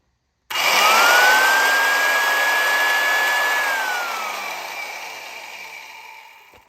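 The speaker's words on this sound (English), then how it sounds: "listen to this, and this is the big gear reduction in here" A Stanley Victor hand drill with heavy gear reduction is cranked hard, giving a loud, steady whirring grind that rises briefly and then tapers away over several seconds, with no talking.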